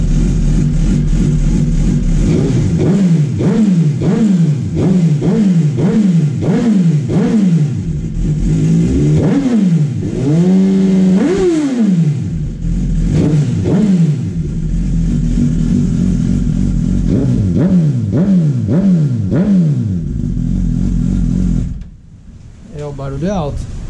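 A 2019 Suzuki SRAD 1000 sport motorcycle engine revs hard again and again, climbing quickly and dropping back in repeated bursts, loud and close, before cutting off near the end.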